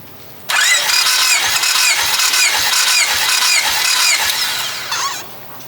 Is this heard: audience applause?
no